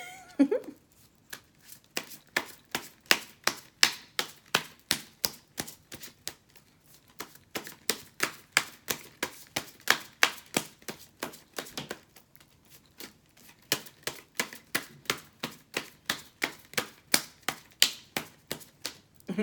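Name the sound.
shuffling a deck of cards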